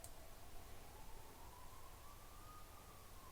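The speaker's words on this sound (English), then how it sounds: "There's the ambulance." An ambulance siren outside, faint and distant: a thin, slowly rising wail holding steady over a constant background hiss for the whole stretch.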